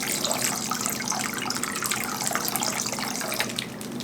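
Water runs from a tap for cleaning a microwave with water and lemon juice, a steady hissing splash that carries evenly through the clip, close and without speech.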